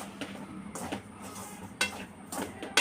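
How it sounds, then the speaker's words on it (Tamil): An aval laddu mixture being stirred in a pan over a low flame, with soft scraping strokes against the pan and a faint background hiss, quiet and close. "சிம்மில் வச்சே கிண்டுங்க இல்லைன்னா கருகிரும்"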